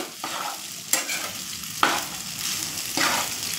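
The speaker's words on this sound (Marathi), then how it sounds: "हे बघा, मी आता हे पूर्ण मिक्स करून घेत आहे।" Sabudana khichdi stirred in a frying pan: soft sizzling under several scraping spoon strokes, with sharper scrapes recurring roughly every second, close and moderately loud.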